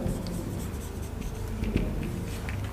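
Writing by hand with a pen on paper makes a close, steady scratching that continues under a low background hum throughout, with no talking.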